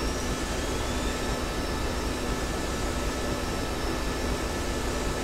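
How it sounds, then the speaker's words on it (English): MiG-21bis jet engine in the flight simulator DCS restarting mid-flight makes a loud, steady, broadband roar with a constant whine running through it and no break throughout. "engine coming back to life"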